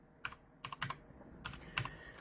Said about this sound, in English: You can type in regedit.